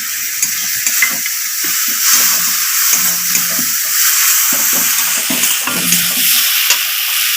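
Chili and turmeric paste hits a hot pan and is stirred while frying for a cauliflower curry, giving a loud, continuous close sizzle with repeated scraping stirs throughout.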